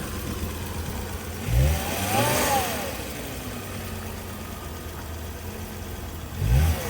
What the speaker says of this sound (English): Started right up with a jump. Engine sounds good to me.